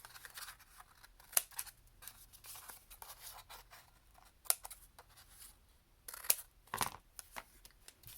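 Scissors trim paper for a Tim Holtz policy folder, a few close, crisp snips and rustles spread across a quiet stretch.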